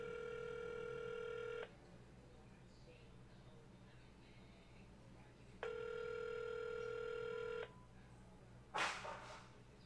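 A phone rings with an incoming call, two long steady electronic tones about four seconds apart with a low hum between them, followed by a brief sharp burst of noise.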